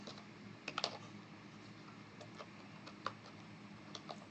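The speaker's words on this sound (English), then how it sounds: "Let's type it in anyway." Java code being entered on a computer keyboard, with sparse, quiet key clicks and a small cluster of taps near the start over a faint background hiss.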